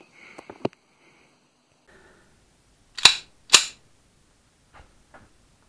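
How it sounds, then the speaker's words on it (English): Two sharp, loud pistol shots from a Tokarev fired at a homemade Kevlar 29 armor plate of 18 layers, about half a second apart, with faint handling noises before and after. "I'm gonna make another shot with Tokarev to see, can we really stop Tokarev round from a pistol."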